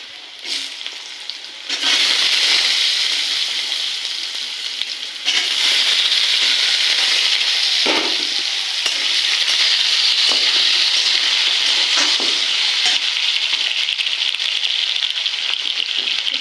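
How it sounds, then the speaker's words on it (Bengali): Potatoes dropped into hot oil with mustard seed tempering sizzle and fry loudly and steadily, for okra cooked to eat with hot rice, with occasional stirring clatters and no talking. "এর মধ্যে আবার সর্ষে ফোড়ন দিলাম এর মধ্যে আলু দিয়ে নিচ্ছি"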